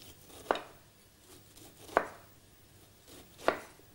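Knife chopping through pineapple on a cutting board, three crisp separate cuts about a second and a half apart, close and clear with no talking.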